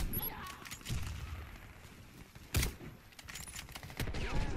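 Gunfire from the McMillan CS5 bolt-action sniper rifle and other weapons in the shooter game Warface, a string of sharp cracks and bursts at varying distance with one heavy shot standing out, over a quiet game background.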